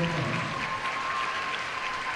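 A crowd applauds seniors, athletes and their parents at a ceremony during a Cape Central vs Dexter game. The clapping is steady, dense and continuous in a large indoor space.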